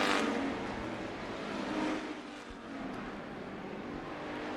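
Race cars roaring around the dirt oval at Bakersfield Speedway, a broad engine drone that swells and fades as cars pass, heard from a distance with crowd-like wash.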